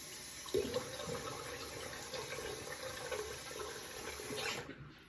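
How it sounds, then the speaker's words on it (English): Running water from a tap splashes steadily at low volume as shaving soap is rinsed off a face, a continuous wash that fades out at the end with no talk. "Let me rinse it off."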